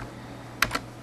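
Two quick, close keystrokes tap on a computer keyboard while a web address is typed, crisp clicks over a steady low room hum.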